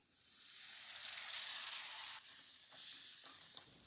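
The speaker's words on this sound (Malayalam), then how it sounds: "3 ടേബിൾ സ്പൂൺ വിനെഗർ ഒഴിച്ചു കൊടുക്കാം." Vinegar poured into hot spice powders with roasted ground fenugreek sizzles loudly and steadily, a bright hiss swelling then easing with a few stirring scrapes toward the end.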